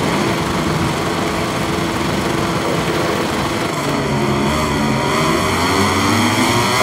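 A Ducati motorcycle in MotoGP 23 at the Sokol International Racetrack in Kazakhstan, its engine a loud, close, high-pitched whine held steady and then climbing in pitch as the revs rise, with no talk.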